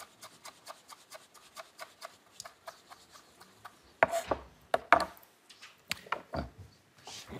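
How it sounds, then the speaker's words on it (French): A chef finely chops ginger with a knife, making a quick, even run of light taps on a board, then a few louder, heavier knocks and scrapes toward the end, close up with no talk. "le chef découpe du gingembre"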